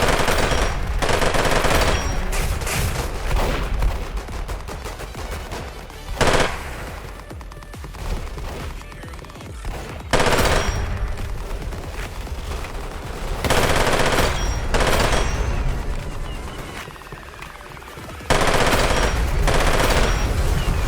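Rapid automatic gunfire from a hipfire build in the video game Weird Gun Game. The bursts are loud and sustained, with brief pauses between long strings of shots and no talking.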